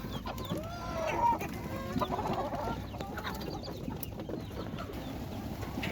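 Bangladeshi native deshi chickens cluck and call in a farmyard, several close, irregular clucks overlapping against a steady outdoor background, busiest in the first few seconds before settling into quieter scattered calls.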